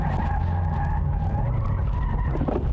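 A drift car skids continuously after a clutch kick, tires screeching over a loud, unbroken engine roar at close range for under three seconds.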